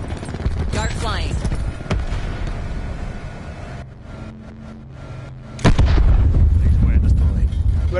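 Rapid, sustained fire from the Daemon 3XB in Black Ops 4, a dense loud stream of shots that dips briefly midway, then returns heavier with booming impacts.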